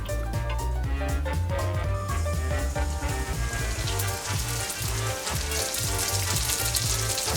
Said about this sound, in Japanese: 揚げ音は人を魅了する。